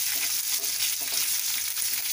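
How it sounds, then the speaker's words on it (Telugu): Chopped onions and green chillies frying in a pan with seeds, a steady close sizzle with light crackle and faint stirring scrapes, no voices. "ఇప్పుడు అందులో కట్ చేసుకున్న ఆనియన్స్ అండ్ పచ్చిమిర్చి వేసుకున్నాము."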